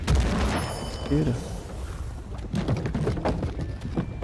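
Booming explosions and gunfire-like blasts in the action game Lost Ark, a steady close barrage of thuds and cracks with scattered sharper hits, with faint voices talking underneath.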